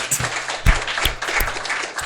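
An audience applauds on a Tswana reaction show, a dense crowd clapping with a few louder slaps standing out over a low background hum.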